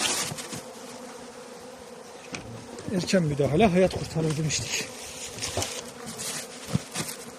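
A dense, steady hum of honeybees buzzing around a weak spring colony's hive, with someone speaking briefly over it and a few louder passes near the middle.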